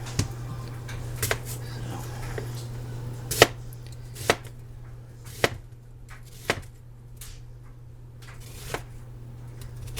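An onion chopped with a knife on a board: a handful of sharp, separate thuds spaced a second or so apart, close and distinct over a low steady hum, with no talking.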